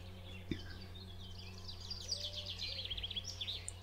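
Birdsong plays softly in a calm outdoor setting, with many small birds chirping and trilling in overlapping high phrases over a steady low hum, at moderate distance with no talking.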